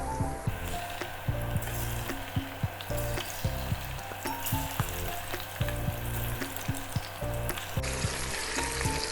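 Garlic and chilli prawns, Spanish pil-pil style, sizzle and crackle steadily in a hot pan, with occasional stirring clicks; no talking.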